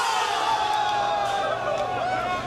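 An air hockey crowd at a competitive event cheers and whoops in a steady, loud roar of voices that holds throughout, with overlapping shouts and general hubbub.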